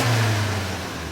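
A 1965 Volvo 1800S B18 engine with Mikuni twin carburetors and velocity stacks revs loudly and close by for a brief moment, a strong throaty drone that eases slightly as it fades.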